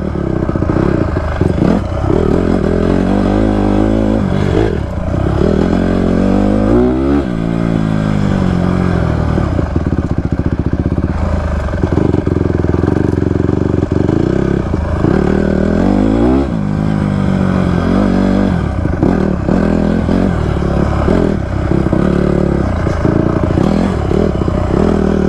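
A 2024 Honda CRF250F dirt bike engine revs hard and continuously on a hot 110-degree desert ride, the throttle rising and falling in repeated surges, loud and close, with clattering and wind noise throughout.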